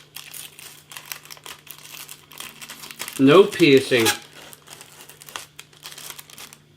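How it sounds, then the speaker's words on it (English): Plastic film lid crinkles and crackles as it is peeled back from a Richmond toad in the hole ready meal tray, a short close burst of rustling amid faint talk. "peel back the film lid from the batter side only"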